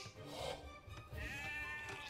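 Sheep bleating in the video game Age of Empires 2, a short wavering bleat rising over a quiet game background.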